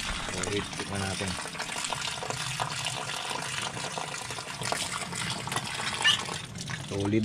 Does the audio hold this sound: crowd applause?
no